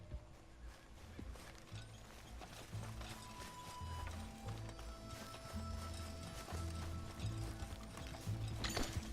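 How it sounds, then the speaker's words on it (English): Horse hooves clip-clopping in the Red Dead Redemption 2 video game, a steady rhythmic trot mixed with game ambience and music, fairly prominent and continuous. "O cavalo tá aqui."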